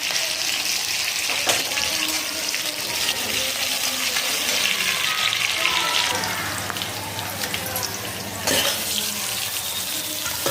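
Green chilies and a generous handful of curry leaves sizzle in hot oil for a tempering, a loud, steady hiss and crackle with brief bursts as ingredients drop in, no voices.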